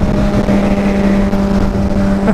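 A Suzuki GSX-R 750 K7 motorcycle engine running hard on a dyno with a quick-shifter fitted, giving a loud, steady, close-up droning roar that holds an even pitch throughout.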